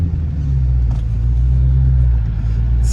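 An all-wheel drive car engine idling roughly outdoors on wet ground, a loud, steady low rumble with slight unevenness and no clear revving.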